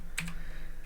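Arrow keys pressed on a computer keyboard while editing in an Ubuntu terminal, a quick pair of close, crisp clicks near the start followed by quiet room tone.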